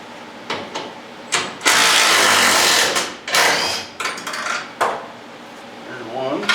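Metal clanking and ratcheting of a 9/16 socket wrench backing out lag bolts, heard as a few sharp, close clatters and longer bursts of loud grinding rattle separated by brief pauses.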